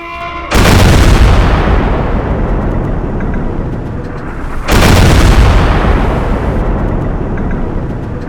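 Battleship turret guns firing downrange: two massive booms, the second about four seconds after the first, each rolling into a long, loud rumbling decay.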